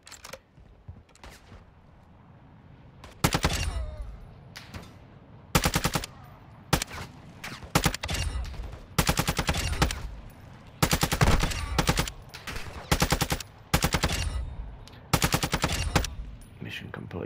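Automatic gunfire from a weapon in a shooter video game, loud bursts of rapid shots fired in repeated volleys separated by short pauses, with a quieter stretch of lighter shots at the start.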